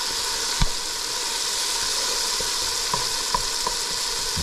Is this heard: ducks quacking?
no